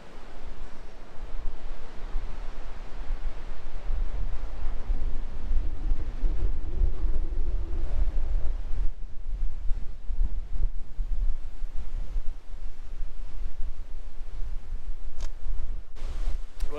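Steady wind roars against the microphone on an exposed mountainside above a farmland valley, a continuous low rumble with gusty surges and no voices.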